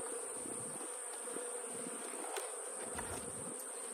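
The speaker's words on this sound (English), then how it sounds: "I'm going to let these bees continue and finish robbing out what's left of this" Honey bees robbing out the remains of a failed walkaway-split hive, a steady close buzzing hum of many insects with wings rising and falling continuously throughout.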